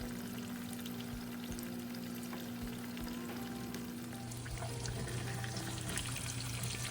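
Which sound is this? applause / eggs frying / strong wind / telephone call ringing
eggs frying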